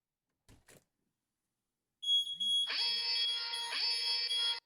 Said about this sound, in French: Dès que la porte est ouverte, l'alarme retentit et la notification arrive simultanément.